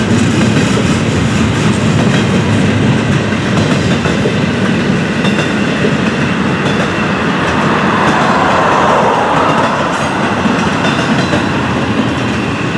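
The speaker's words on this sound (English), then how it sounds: "202, a friendly wave, carrying intermodal as usual." An FEC freight train hauling intermodal containers rumbles past steadily and loudly, wheels clattering over rail joints with a continuous roar throughout.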